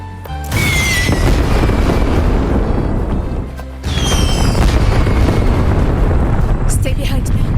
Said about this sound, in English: Wish the fireworks could stay up there forever.